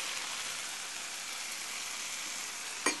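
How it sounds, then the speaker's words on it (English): Grilled vegetable chunks and fusilli pasta sizzle steadily in a pan, a soft continuous frying hiss with no voices, ending in one brief clatter. "I just cut them up into large chunks and drop them in the pan, let them cook for a second"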